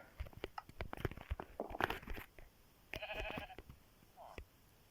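Sheep bleating in the Minecraft video game, a short nasal bleat standing out among crunchy clicks and bites, fairly close and moderately loud.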